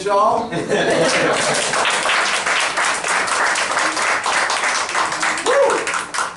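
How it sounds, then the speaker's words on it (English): Enthusiastic audience applause and cheering after a poem recital, dense, continuous clapping throughout with a brief spoken word from the performer over it. "A round of applause for my blackness, y'all."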